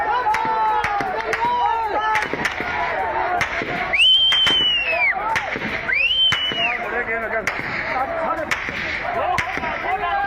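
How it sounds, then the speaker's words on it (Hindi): Gunfire aimed at protesters during a street protest in Bhimber, Pakistan-administered Kashmir: repeated sharp cracks and bangs ring out over a dense, noisy crowd, with shouting voices and whistle-like tones rising above the commotion. "भिंबर में आम लोगों पर फायरिंग की गई है"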